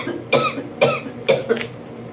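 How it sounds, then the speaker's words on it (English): A person coughs in four sharp, close bursts spaced about half a second apart, the last two nearly run together, with no talking. "Why am I coughing?"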